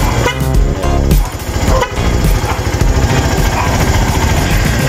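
A tricycle's loud, brassy horn honks in sustained bursts over its running engine, close by and filling the whole stretch.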